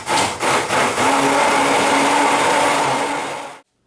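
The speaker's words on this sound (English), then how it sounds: "That's the beauty of an immersion blender, is it really just aerates this and makes it into a dressing" An immersion blender whirs loudly and continuously, emulsifying a lemon juice dressing, with a few short pulses at the start before running steadily and cutting off abruptly.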